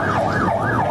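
Wailing emergency vehicle siren at the scene of an embassy bombing, rising and falling in slow sweeps, loud and steady over a rumbling crowd-and-traffic background.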